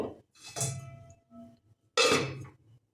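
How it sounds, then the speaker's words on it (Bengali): A lid set onto a cooking pan while Assam-style katla kaliya fish curry is being made, giving two separate metallic clanks, the second louder and brighter, close by with quiet gaps between. "তার আগে একটা ঢাকনা দিয়ে দেব"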